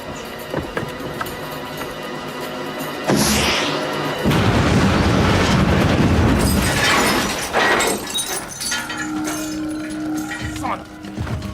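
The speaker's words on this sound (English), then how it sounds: "That would be a grenade launcher." A grenade launcher fires and its round explodes in a 1996 Nash Bridges TV action scene. A sudden loud blast erupts, and a rumbling, crackling roar with debris follows for several seconds.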